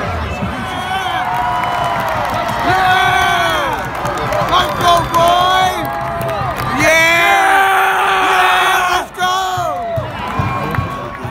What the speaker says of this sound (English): Everybody yell, let's go!